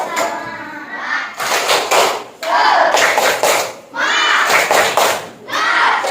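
A classroom of students performs a rhythmic spirited clapping chant on a teacher's count, loud bursts of synchronized claps and shouted words repeating in sections with brief gaps between them.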